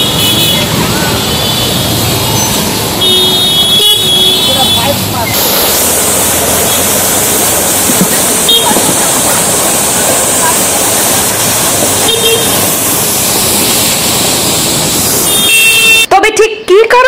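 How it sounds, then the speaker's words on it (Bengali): Water gushes from a burst Jal Jeevan Mission supply pipe on Park Road in Silchar, flooding the area. The rushing roar is loud and steady throughout, with occasional car horns and street traffic mixed in. "জেলা শাসকের বাংলোর সামনে হঠাৎ জল জীবন মিশনের পাইপ ফেটে এলাকায় মিনি"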